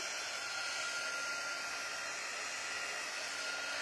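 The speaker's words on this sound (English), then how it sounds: "Now I'm going to go ahead and dry this a little bit with my heat tool" Craft heat tool blowing hot air to dry paint, a steady, even rushing hiss held without change from start to finish, with no voices over it.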